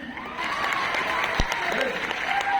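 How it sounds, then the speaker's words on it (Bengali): An audience applauding at an indoor sales meeting, a short burst of dense clapping that builds slightly, with voices mixed underneath and a sharp thump midway. "সবাই হাততালি দিন।"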